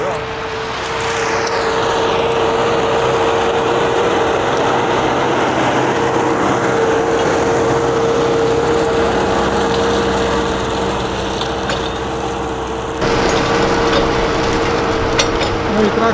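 A Hattat 4110 tractor pulls a Lemken plough through damp rapeseed stubble, a steady engine drone with a sustained whine and mechanical clatter running throughout, fairly close and loud, shifting slightly in tone partway through.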